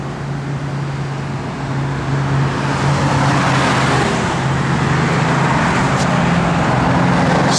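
A 1968 Plymouth GTX with a six-pack cam idles and runs with a steady low engine drone. The sound is loud and continuous and swells slightly midway, with no voices.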